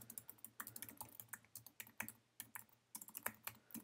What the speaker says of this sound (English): I'm just going to type in a description here.